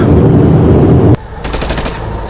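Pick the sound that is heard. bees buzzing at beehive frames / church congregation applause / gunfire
gunfire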